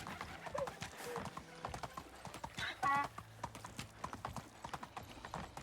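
Donkey hooves clip-clop in a steady walking rhythm during a ride in the medieval life-sim game Medieval Dynasty, close and moderately loud, with a short bray-like burst midway and game ambience underneath.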